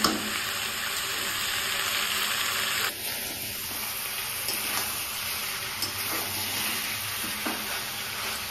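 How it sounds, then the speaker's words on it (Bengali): Potatoes stirred into frying mutton in a pan: a steady, close sizzle with scraping and stirring sounds, shifting in texture partway through, no voices. "আলুটা দিয়ে কিছুক্ষণ নাড়াঘাটা করে একটু হালকা জল দিয়ে দেব"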